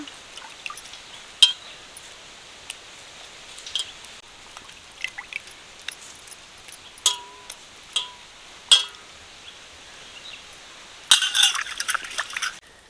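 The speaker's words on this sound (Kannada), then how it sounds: "ಬಿಸಿ ನೀರಾಗ ಸ್ವಲ್ಪ ಕೈ ಎತ್ಕಿಂತ ಬೆಣ್ಣೆ ತೊಳಿಬೇಕು" Butter being washed by hand in hot water for ghee: soft sloshing and dripping with scattered clinks and splashes, quiet and close, with a brief louder splashing burst near the end.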